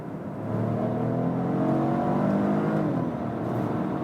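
A Volvo XC40 T5 plug-in hybrid with a 1.5-liter three-cylinder engine accelerates hard in power mode from 50 to 100 km/h, a steady, loud, rising engine drone heard from inside the cabin.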